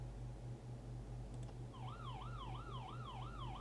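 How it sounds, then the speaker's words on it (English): Police car siren ringtone from a phone anti-theft app, loud and close, wailing in repeated rising-falling sweeps after a short hum-filled start. "It's a police car sound, only much louder"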